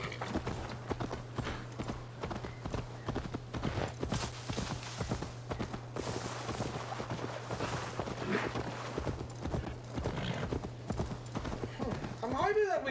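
A horse in Assassin's Creed Valhalla trots with close, even hoofbeats from start to finish, and a person talks steadily over the clopping.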